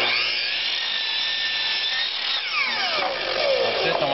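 Whining high-pitched power saw set at 45 degrees cutting a defect out of wood, the pitch shifting as the blade bites deeper, loud and close.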